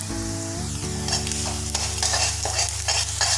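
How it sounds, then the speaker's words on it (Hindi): Curry leaves and turmeric fry in a pan for a dosa potato filling, with a constant sizzle under low humming tones and occasional stirring scrapes, close-up and without speech. "करी पत्ते डालेंगे, करीब 15 पत्ते डाल देंगे। तो 1 मिनट तक भूनेंगे।"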